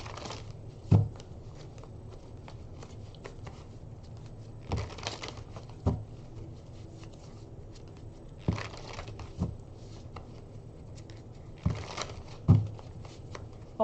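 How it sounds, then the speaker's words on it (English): Tarot cards shuffled by hand at close range, a run of soft papery riffles and flicks with sharper slaps every few seconds, over a quiet room hum and no talk. "We're going to shuffle a little bit more here"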